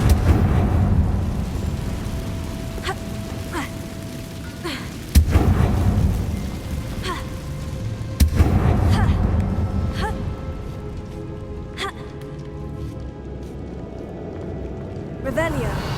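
Confringo blasting spells explode in the video game Hogwarts Legacy: two sharp, loud blasts a few seconds apart ring out over a steady wash of in-game action sounds.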